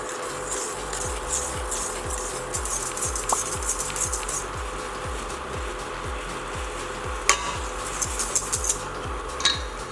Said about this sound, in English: whisk away at our eggs and sugar until it creates a bit of a syrup